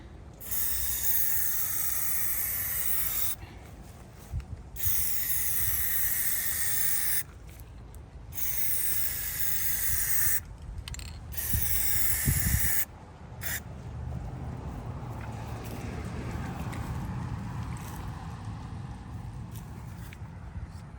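Aerosol can of Plasti Dip rubber coating sprayed onto a Ford F150 side emblem in a third coat, long steady hissing bursts broken by short pauses, close and loud with no talk.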